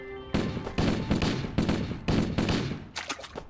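Gunfire from a gun in Halo: The Master Chief Collection on the Crash Site custom map comes in about five rapid bursts, each a fast string of loud, close shots with short gaps between.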